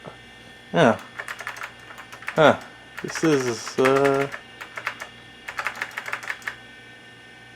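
Rapid clacky typing on a loud old keyboard of a VTI Turbo 55 286 PC, uneven bursts of keystrokes, with a person speaking briefly in between.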